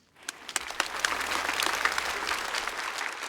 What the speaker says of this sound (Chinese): 我们掌声给所有的演员